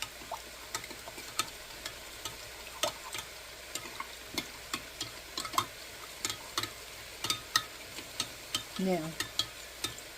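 Chicken stir fry sizzles steadily in a pan while a utensil scrapes and clicks against it in a quick, uneven rhythm, close and fairly quiet, with one brief spoken word.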